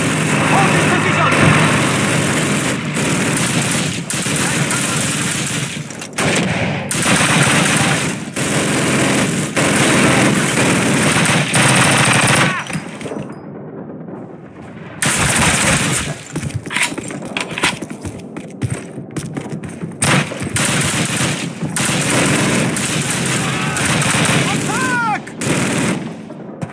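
Bursts of machine gun fire crack loud and close in Call of Duty's Pavlov's House battle, rapid rattling volleys over ongoing combat noise, with a brief lull midway before dense firing resumes; shouted voices come in under the gunfire.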